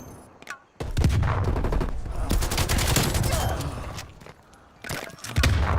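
Heavy volleys of gunfire and rattling automatic shots fill a video game firefight, loud and sustained with a short quieter gap, faint background chatter beneath.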